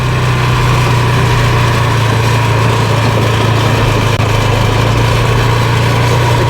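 A generator engine runs at a steady, loud hum with a constant low drone and no change in rhythm, heard close and alone.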